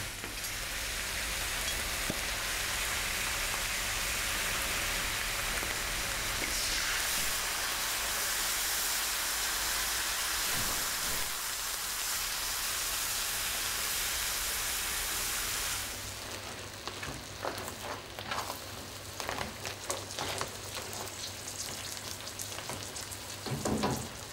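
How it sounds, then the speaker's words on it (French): White wine hits a hot pan holding food that has started sticking to the bottom, raising a loud, dense sizzle that runs steadily for about fifteen seconds and then thins into softer, crackling bubbling with scattered stirring clicks. "On va les déglacer avec du vin blanc."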